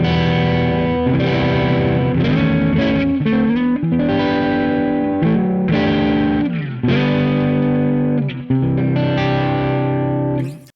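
An electric guitar runs through the Two Notes Genome plugin with a wide stereo effect: loud, heavily distorted chords and chugging notes in a steady rhythmic riff, alone without talking, ending abruptly.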